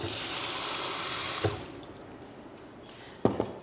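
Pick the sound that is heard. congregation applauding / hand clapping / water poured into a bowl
water poured into a bowl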